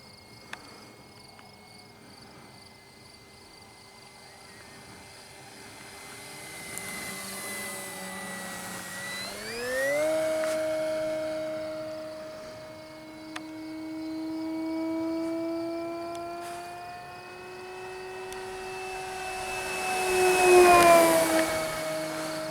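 An E-flite Cessna 150 Carbon-Z RC plane flies overhead at full throttle, its electric motor whining in a rising then falling pitch as it passes, swelling louder twice and growing loudest near the end.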